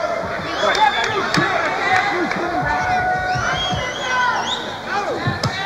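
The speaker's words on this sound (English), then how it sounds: "Crowd's really getting into it." Crowd noise from a women's fight between Denise Taylor and Darling Valdez, a steady roar of cheering and shouts with a few rises, under a commentator's voice.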